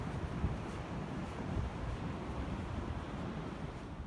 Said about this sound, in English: so nice to hear the sound of the sea as well